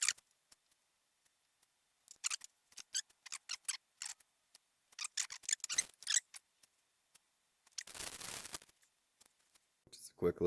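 Scissors snip wires for a homebrew wiring harness in a run of quick, close cuts, followed by a longer rustling burst and a few more snips.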